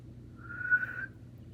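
Someone blows a faint, breathy whistle, a single wavering tone that rises briefly and fades, with low background hum.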